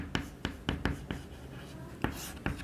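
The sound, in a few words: writing volume units by hand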